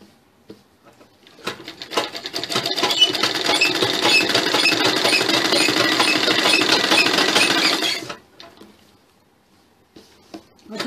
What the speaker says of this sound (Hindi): एक सिलाई हम पीछे से पाइपिंग को दे देते हैं